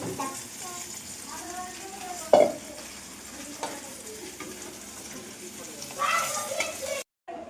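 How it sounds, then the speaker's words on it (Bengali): Food frying and being stirred in a pan in a home kitchen, a steady sizzle with scraping stir strokes and a sharper clatter midway, close and continuous. "এই যে বন্ধুরা দেখতে পাচ্ছি এই যে ভাজা ভুজি চলছে"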